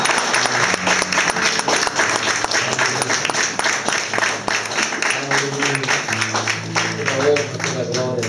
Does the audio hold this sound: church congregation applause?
yes